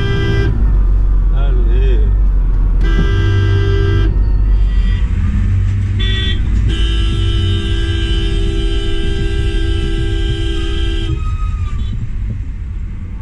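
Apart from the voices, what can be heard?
road traffic with car horns honking in India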